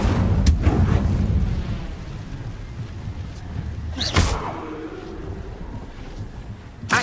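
Incendio fire spell cast in Hogwarts Legacy: a loud whooshing burst near the four-second mark over a constant windy, rumbling game background, with sharp transient cracks near the start.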